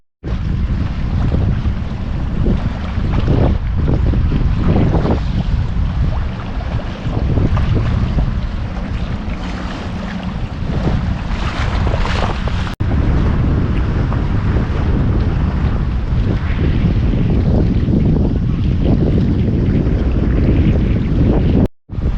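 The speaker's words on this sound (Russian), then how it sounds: "Можете слышать ветер немножко как дует." Strong wind by a sea bay roars and buffets the microphone continuously, with a broad rushing wash like open water beneath it, loud and unbroken throughout.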